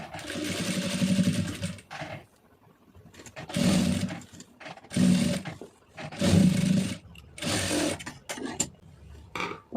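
A sewing machine stitches a piping design on fabric in several separate bursts of close, rattling whir, each lasting a second or two, with short pauses between them.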